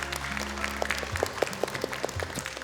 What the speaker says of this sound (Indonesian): tepuk tangan untuk Dewan Juri kita